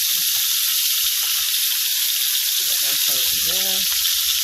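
Butter sizzles in a hot pan while iguana is being cooked for dinner, a steady loud hiss running throughout, with a brief voice-like tone near the end.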